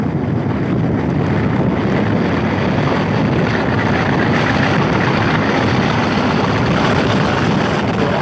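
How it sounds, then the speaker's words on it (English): Wind on a blustery day in the city roars steadily across the microphone, a loud, continuous rumbling buffet with no voices. "Windy, but a beautiful day."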